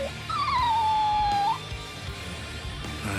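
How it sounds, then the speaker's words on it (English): A single drawn-out dog howl in the Bleach Rebirth of Souls video game, rising then holding a steady wavering tone for over a second over a busy game soundtrack, then fading back under the music. "We thought it was just a stray dog"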